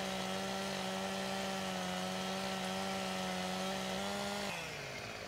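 A chainsaw in Farming Simulator 15 cuts tree branches with a loud, steady buzzing whine that holds one pitch, then drops lower near the end as the cut finishes. No one talks.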